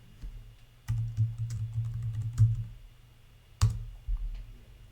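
Close computer keyboard typing, with quick clicks in irregular bursts over a low steady hum.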